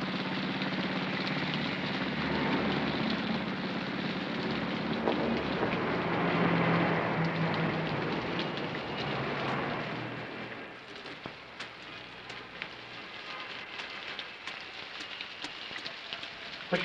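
Heavy rain pours in a steady, loud hiss for the first ten seconds alongside a low engine-like rumble, then thins to a lighter patter with scattered drips toward the end.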